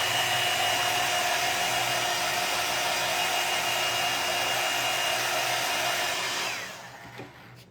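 A hair dryer blows a steady, loud hum while drying paint on a wooden frog craft kit, running continuously for several seconds before switching off and winding down near the end.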